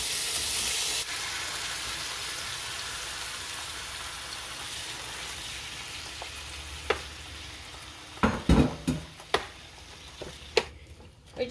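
Beef frying with onion in a pan for pepper steak, a steady soft sizzle throughout, then louder clattering stirs and scrapes of a utensil in the later seconds.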